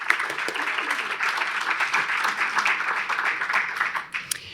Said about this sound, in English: Let's give them a round of applause for their leadership.